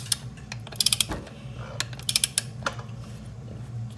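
A torque wrench set to 80 foot-pounds tightens a clutch bolt on a Nitrous Renegade on 33-inch tires, giving a quick run of close ratcheting clicks in two short bursts over a low steady hum.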